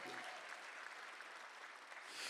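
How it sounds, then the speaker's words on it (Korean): Church congregation applauding during a Sunday afternoon worship service: an even, continuous patter of clapping heard faintly from a distance. "박수하세요"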